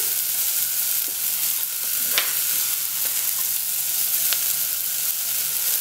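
Shallots sizzling steadily in a pan after being deglazed with port, a continuous bright frying hiss with a few small pops and clicks of stirring.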